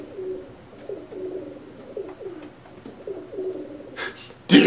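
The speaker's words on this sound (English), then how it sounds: "There's a pigeon outside my window." A pigeon coos just outside a window in a series of soft, low, repeated calls with short pauses between them, followed by a brief louder rustle at the end.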